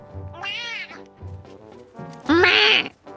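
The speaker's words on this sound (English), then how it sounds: "I love the fucking doorbell cat" A doorbell cat in the Fortnite video game gives two drawn-out meows, the second louder and higher, close and clear, with faint background sound.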